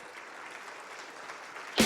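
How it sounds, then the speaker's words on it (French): Audience applause at the Natexpo 2025 trophies award ceremony: a steady, fairly soft wash of clapping throughout, rising to a sharper, louder burst right at the end. "On peut les applaudir très fort."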